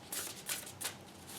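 Tarot cards shuffled by hand, a short run of soft riffling bursts close to the mic, fairly quiet and alone.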